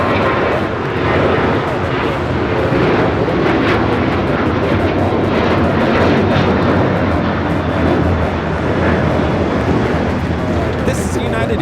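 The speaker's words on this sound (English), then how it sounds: "This is United Airlines 1278 taking off to Cancun on the 737-900ER." A United Airlines Boeing 737-900ER bound for Cancun takes off at Los Angeles LAX, a loud, steady broadband jet roar holding throughout without letup.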